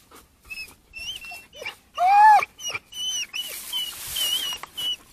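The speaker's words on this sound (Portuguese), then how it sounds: "Vamos botar as cadelas aqui." Hunting dogs yelp and whimper during a wild boar hunt in the brush, a series of short, close, sharp cries with one louder yelp, over rustling and scattered movement.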